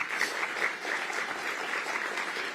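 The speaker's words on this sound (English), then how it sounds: "Please give them a round of applause." Audience clapping at a Pancakes & Politics community event in Metro Detroit, a dense even round of applause holding steady throughout.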